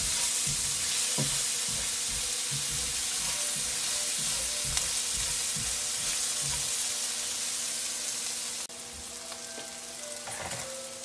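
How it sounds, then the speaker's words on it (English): Minced garlic frying in a pan for a Caribbean chicken and squash stew, a steady close sizzle with occasional scrapes and clinks of stirring, dropping slightly quieter near the end. "Now I'm going in with the minced garlic. And let that fry a little bit."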